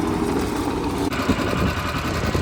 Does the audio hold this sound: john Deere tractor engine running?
yes